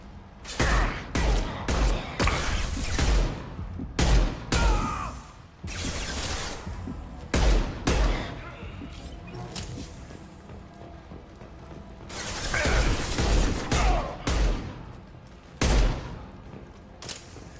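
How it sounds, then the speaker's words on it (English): Pistol gunfire in a space-themed video game: a rapid, loud series of sharp, close shots in irregular bursts, with short pauses between volleys and clicking mechanical sounds throughout. "Pistol does pack a punch."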